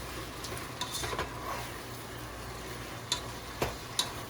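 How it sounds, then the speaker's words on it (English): Fajitas are stirred with a cornstarch seasoning mix in a frying pan using a spatula, giving a soft, steady sizzle broken by a few scattered scraping taps against the pan. "So we're just going to stir that together pretty well."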